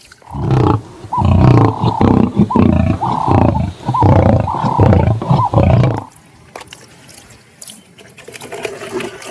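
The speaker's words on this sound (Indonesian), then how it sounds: "Wih, singa." A lion roars loudly and close in a series of deep, rhythmic grunting roars for about six seconds, then stops, leaving quieter background noise.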